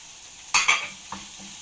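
Potatoes, rice and vegetables with spices being stirred in a pan, two quick scraping strokes followed by a fainter clack, with a low sizzle underneath.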